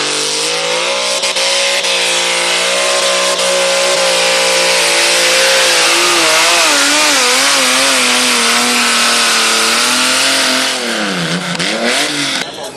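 A tractor-pulling tractor in the 1400 kg class at Sebaldeburen in 2014 roars at full power, its engine note loud, unbroken and close, rising and wavering in pitch before dipping near the end.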